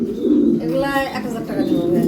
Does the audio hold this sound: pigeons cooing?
yes